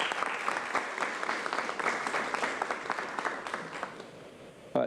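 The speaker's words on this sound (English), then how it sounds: "So please join me with a round of applause recognizing that." A room of attendees at a San Diego County Board of Supervisors meeting applauds in recognition, a moderately distant, continuous patter of many hands clapping that stays fairly even before cutting off abruptly at the end.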